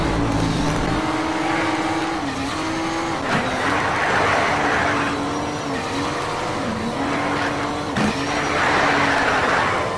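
Race cars in the video game Need for Speed Shift: a loud, steady engine drone that repeatedly dips in pitch as the cars brake, with tire squeal and road noise throughout.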